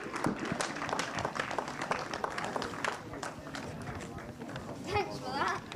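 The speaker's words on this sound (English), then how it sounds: "big round of applause for Mini" Applause from spectators at a kart racing meeting at PF International for the Mini class finishers, a steady dense patter of clapping with some crowd noise, fairly distant, running under a commentator's talk.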